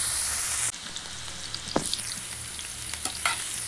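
Pineapple pieces sauté in ghee in a pan for pineapple shira. A loud sizzle cuts off abruptly, then quieter frying follows with a few stirring scrapes and clinks.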